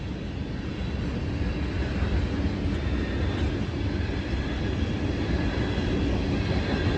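Norfolk Southern freight train NS 18M rolling through the Lewis Center Road railroad crossing in Lewis Center, Ohio, giving a steady, loud, close rumble and rattle of cars passing throughout, with no talking.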